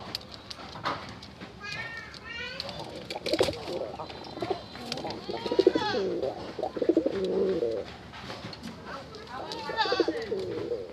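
A pair of deep red pigeons, Rajgolla-type fancy breed birds, coo repeatedly at close range in a loft, with rhythmic bubbling calls rising and falling over background chatter and other birds.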